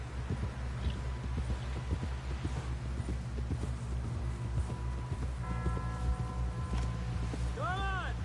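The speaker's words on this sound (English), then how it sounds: "Someone help John down off this horse." Horse hooves clip-clop in a steady walking rhythm in Red Dead Redemption 2, with low rumbling game ambience and a voice speaking over the hoofbeats.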